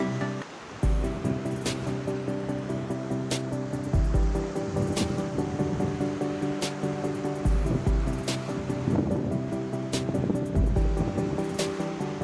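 Sea waves wash steadily onto the beach at Praia de Santo André, Porto Seguro, Bahia, where a river meets the sea, a continuous surf roar under a sustained musical drone with periodic low thumps.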